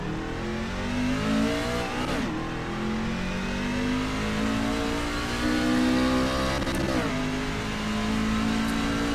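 A race truck engine in a racing game revs and climbs through gears as it pulls out, a steady loud whine with two shift breaks, no talking.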